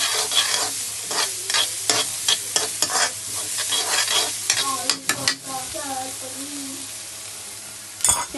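Carrots stir-fry in a pan for fried rice, with a spatula scraping and knocking against the metal in quick, uneven strokes over a constant oil sizzle, then a brief quieter stretch before one last sharp clatter.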